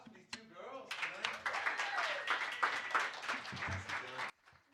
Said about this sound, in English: Round of applause for these two girls tonight.